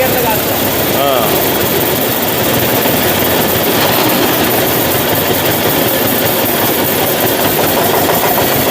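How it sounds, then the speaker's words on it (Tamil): A loud, steady double-cylinder tractor engine rumbles and drones continuously at close range, a heavy mechanical roar with no pauses and only faint traces of voices underneath. "இது டபுள் சிலிண்டர் டிராக்டரோட இன்ஜின்"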